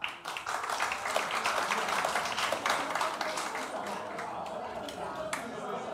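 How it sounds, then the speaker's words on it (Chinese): An audience at a forum applauds, a dense, sustained clapping that stays fairly even before easing off slightly toward the end. "来，大家鼓掌。"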